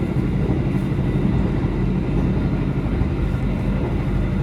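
Continuous loud rumble and roar of a Kertanegara executive-class passenger train moving fast through a station without stopping, steady throughout with no voices.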